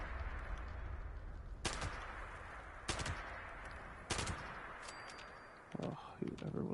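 Three or four sharp, loud gunshots from Fallout 76 crack out at roughly one-second intervals over a steady background hum, with a voice speaking briefly near the end.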